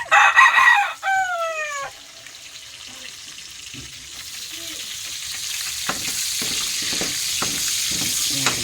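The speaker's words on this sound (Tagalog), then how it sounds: "Gigisa na tayo, guys." Large garlic cloves sautéing in a pan: a brief loud tonal cry rings out first, then a steady frying sizzle builds and holds to the end, with no talking.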